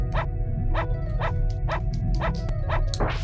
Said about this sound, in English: I'm gonna go somewhere where I can hear the dog bark.